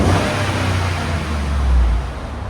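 A 2015 GMC Sierra SLT with a 5.3L V8 and Borla Touring exhaust revs hard, a loud close deep exhaust roar that swells and falls back over a couple of seconds.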